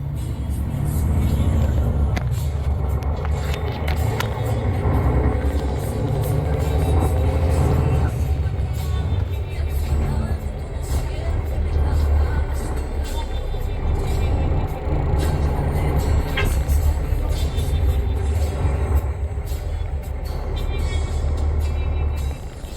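Interior of a moving bus travelling to La Romana in the Dominican Republic, with a steady loud engine rumble and road drone throughout, occasional rattles and faint background voices.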